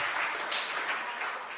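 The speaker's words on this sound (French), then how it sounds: "On l'applaudit." Audience clapping at a candidacy announcement in Mont-Dore, a soft, fairly distant burst of applause that holds evenly for a moment.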